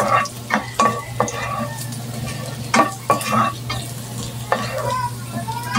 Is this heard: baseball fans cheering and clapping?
no